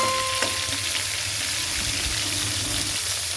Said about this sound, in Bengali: মুরগিগুলো হচ্ছে দিলাম একবারে উল্টায় পাল্টায় ভেজে নেবেন